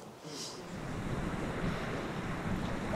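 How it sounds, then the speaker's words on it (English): Steady wind and the wash of waves rush past a Grand Soleil 65LC yacht sailing in an early-evening Mediterranean breeze, a constant broad roar with faint gusty buffeting close to the microphone. "Early evening Mediterranean breeze and being able to harness it and enjoy it to the maximum."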